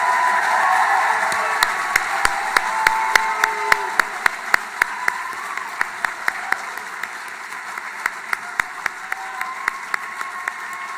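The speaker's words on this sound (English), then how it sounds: "We applaud you all" A graduation audience applauds the graduating aeronautics and astronautics class, a broad wash of crowd clapping with distinct nearby claps standing out through the steady sound. It stays loud and continuous for about eleven seconds.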